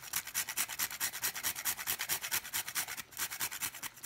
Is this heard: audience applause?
no